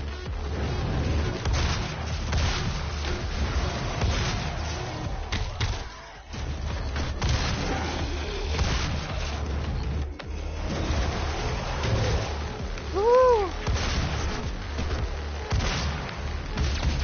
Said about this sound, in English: Man, they did not go light on the explosions in this room.